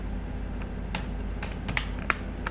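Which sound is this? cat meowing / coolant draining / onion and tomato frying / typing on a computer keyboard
typing on a computer keyboard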